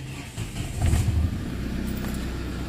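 A Tata Xenon 2.2 turbo diesel 4x4 pickup from 2020 with a manual gearbox starts up and settles into a steady, smooth idle, heard close with a low continuous rumble and no talk.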